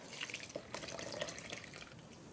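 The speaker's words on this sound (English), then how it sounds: "pour in the wet ingredients" Wet ingredients for an egg custard pie are poured into a well in the dry mix, giving a soft, steady liquid trickle with small drips, close and fairly quiet, with no talk over it.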